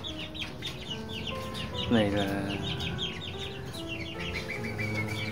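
Young Tân Châu bantam chickens, a little over two months old, cluck and chirp in a farm run with repeated short calls, and someone speaks over them.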